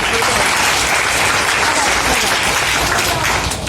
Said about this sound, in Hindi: आप सभी लोगों के लिए जबरदस्त तालियां